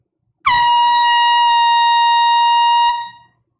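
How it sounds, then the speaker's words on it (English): A compact handheld air horn sounds a single loud, sustained blast of about two and a half seconds, close and alone, to congratulate a winning bidder at a live record sale, then cuts off and fades. "we blow this boat horn. This is an air horn, okay?"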